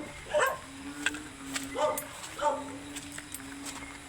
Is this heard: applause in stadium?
no